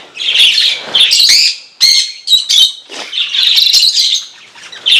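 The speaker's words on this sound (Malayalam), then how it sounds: "കൂട് നിറച്ചും കിളികളായിട്ടുണ്ട്" Pet birds crowd an aviary cage, chirping and squawking loudly and close by in busy overlapping bursts with short gaps between them.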